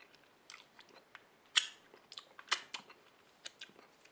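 Someone licks Kühne mustard off plastic film, making faint wet smacking and sticky crinkling sounds in short irregular bursts, with two louder snaps among the quiet clicks.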